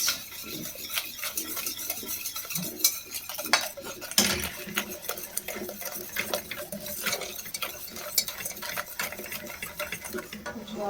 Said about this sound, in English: turn on the stove, keep mixing